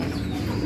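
Imported racing pigeons, prize-winning birds from Thailand, give a short, low, soft coo up close in a loft, with no talk over it.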